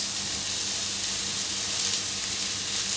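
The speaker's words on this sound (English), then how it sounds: "At this point, I'm going to add in my sauce." Curry sauce poured into a hot pan of Madras curry with corn, a loud, steady hissing sizzle filling the whole stretch close up, with faint stirring underneath.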